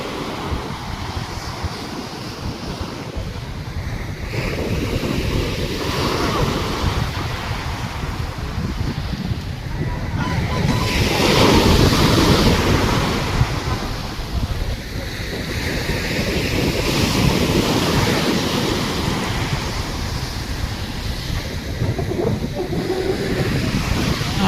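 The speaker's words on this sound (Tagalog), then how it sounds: "Lalaki ng alon." Ocean waves roll in and crash on the shore of Fortune Island, Philippines, at sunset in a steady, loud roar. Wind buffets the microphone, and the surf swells and recedes.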